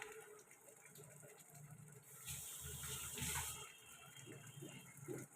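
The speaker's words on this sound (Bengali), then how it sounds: "আর একটু জল দেবো" Water poured into a cooking pot of dal, a faint splashing gush swelling in the middle and trailing off, with quiet kitchen rustle around it.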